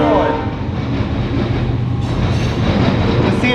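A CSX southbound grain train passes close by in Marion, Ohio, with a loud, continuous rumble of heavy cars and rhythmic wheel clatter on the rails.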